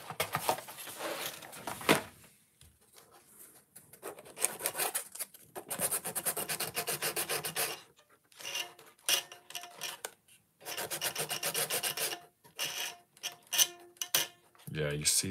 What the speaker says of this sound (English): let me get out the sandpaper